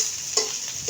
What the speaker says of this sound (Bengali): এই যে আলু ভাজতেছে